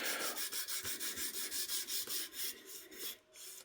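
Sandpaper rubbed hard over a Kizer knife, close rhythmic rasping strokes at a steady pace that turn slower and more irregular toward the end.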